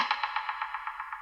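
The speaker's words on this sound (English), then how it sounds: "Just some hits with echo and reverb." Percussive hits run through echo and reverb effects in an Ableton Live production, a steady train of evenly spaced repeating pulses with a bright, metallic delay wash, alone and fairly quiet.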